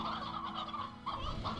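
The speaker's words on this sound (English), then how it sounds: "We have a good bit of hens!" Hens in the Slime Rancher game cluck and warble in quick, close bursts, a short burst of rapid bird calls with a brief pause in between, with no talking.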